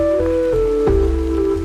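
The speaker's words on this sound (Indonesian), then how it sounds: "Hujan pun turun semakin deras, jauh lebih lebat dari yang saya duga" Heavy rain pours down in a forest, a dense, steady wash of drops throughout with a low tonal hum running underneath.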